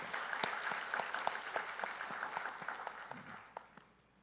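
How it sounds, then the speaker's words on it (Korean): A church congregation applauds together, a dense patter of many hands clapping at moderate distance that gradually thins out and fades away at the end. "우리 주님께 영광과 박수 올려드리겠습니다."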